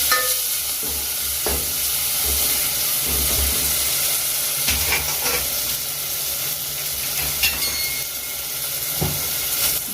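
A spoon scrapes and stirs chopped tomato in a sizzling pan, with irregular clinks over a steady frying hiss and no voices.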